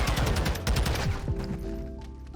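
Rapid automatic gunfire from Call of Duty MWII, played in a third-person mode, fires in a loud, fast burst of shots that tails off into quieter echoing fire.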